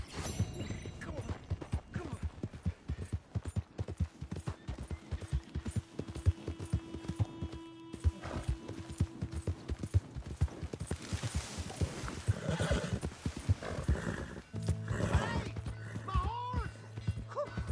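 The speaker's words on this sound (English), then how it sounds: "Here's your horse back, friend." Horse hooves clip-clopping in a steady walking rhythm in a Western video game, with a brief whinny near the end, under intermittent talk and some game music.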